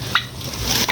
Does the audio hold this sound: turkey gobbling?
yes